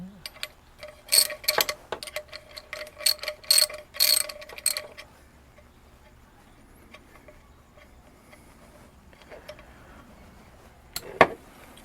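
A size 14 socket wrench loosens a bolt during a Hella 500 LED driving light install, its pawl ratcheting in quick bursts of clicks for about five seconds, then a few isolated clicks and one sharp clack near the end.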